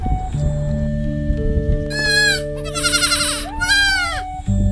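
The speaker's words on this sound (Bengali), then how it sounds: "দেখো কত সুন্দর ছাগলের বাচ্চা দুটো, পুরো সাদা রঙের" Two white baby goats bleat in quick succession, high wavering cries close by, over a steady tonal background hum and low ambient noise.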